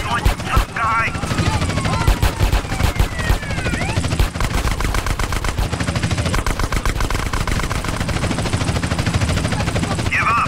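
Police helicopters from the Vice City set circle overhead in GTA San Andreas with the Underground mod, buried in a dense, loud barrage of rapid gunfire and explosions, with voices breaking through the chaos.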